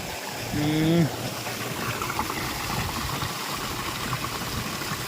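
Water pours into an empty irrigation channel with a steady, close trickling rush under a low engine-like hum, and a voice speaks briefly at the start.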